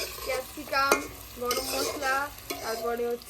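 Chillies, onion and bay leaf fry in a pan on a new clay stove, a steady sizzle broken by bursts of stirring and clattering, with harmonic tonal sounds riding over it.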